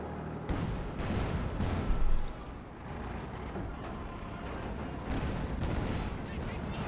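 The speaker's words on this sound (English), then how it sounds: "Basically series of precision strikes just stitched together and called a creeping barrage." A creeping artillery barrage in Company of Heroes 2, a Soviet versus OKW match, with a dense rumble of distant shell impacts and a louder burst near the start, running under a commentator's voice.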